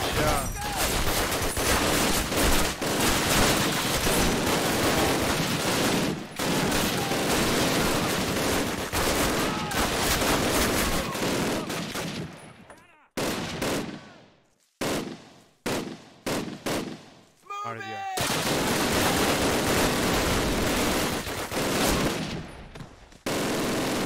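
Long bursts of rapid automatic gunfire in a video game, loud and dense, broken by short pauses and scattered single shots near the end, with no talk over it.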